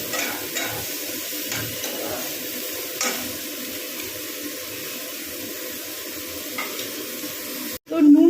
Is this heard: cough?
no